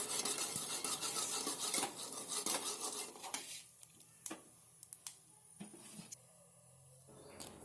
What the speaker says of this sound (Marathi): तेल टाकल्यानंतर व्यवस्थित मिक्स करून घ्या